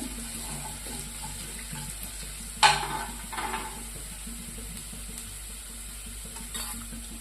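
Garlic fries in oil in a pan for vada pav, giving a soft continuous sizzle with a sharp crackle burst partway through and faint stirring, close by.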